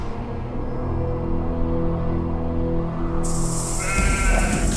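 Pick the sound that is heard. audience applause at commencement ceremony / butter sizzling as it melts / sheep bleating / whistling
sheep bleating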